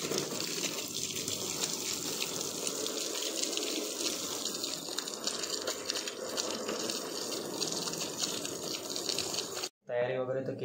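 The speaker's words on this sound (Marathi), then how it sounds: "जरा पाणी मारून घेतो मस्तपैकी, जरा चिखल लागला तो घालवतो।" A spray of water washes mud off a vehicle, a steady, close rushing hiss that runs for about ten seconds before cutting off abruptly, with a voice faintly heard at the very end.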